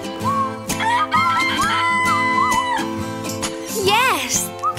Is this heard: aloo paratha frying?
no